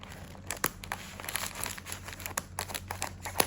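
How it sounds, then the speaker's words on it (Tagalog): Scissors snipping and crinkling gift-wrapping paper for a Valentine's craft, a series of sharp irregular cuts and rustles close up, with no talk. "ayaw nang gumupit nitong aking gunting"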